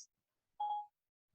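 A short electronic activation tone from a phone voice assistant, a single clean beep of about a third of a second, faint and isolated in near silence.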